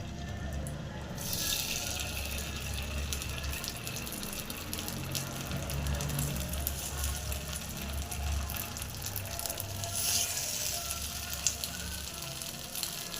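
Big brinjal slices coated in masala fry on an oiled tawa, giving a steady, close hiss of sizzling oil with faint kitchen clatter and no voices.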